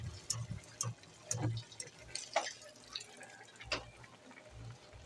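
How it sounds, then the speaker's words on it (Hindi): Water drips from boiled spinach as it is squeezed out by hand for sarson ka saag: faint, scattered drops and small splashes come in irregular bursts over a quiet background. "अब हम पालक को निकाल कर साग में डाल लेंगे। पानी इसका अच्छी तरह से निचोड़ देंगे।"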